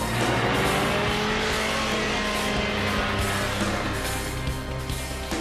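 BMW motorcycle ridden at around 135 miles an hour on the German Autobahn, a loud continuous engine roar mixed with heavy rushing wind noise, steady throughout with no pauses.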